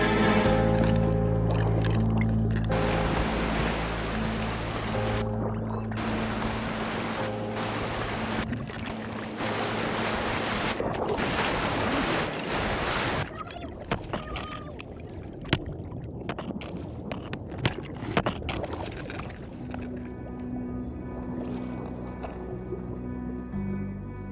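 A boat rides through river rapids, with a continuous loud rush of churning water and spray. Sustained music plays underneath, and the water noise grows choppier toward the end.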